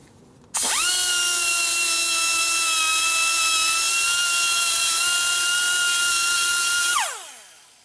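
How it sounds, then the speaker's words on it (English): A high-speed power tool whines loudly and steadily for about six seconds while deburring the lower part of a Harley Shovelhead engine case, then spins down and fades. "We'd like to deburr that out a little bit."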